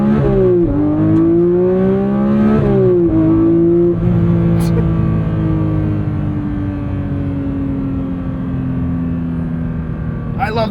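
A 2025 Porsche 911 GT3 engine revs hard up toward 9,000 rpm, its rising harmonic wail climbing, dropping back between gear pulls and then sustaining a steady high drone, loud and close throughout.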